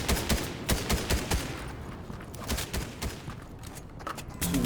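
Rapid machine gun fire in the video game Fortnite, a steady stream of sharp, closely spaced shots with uneven rhythm, loud and close, continuing throughout with no talking.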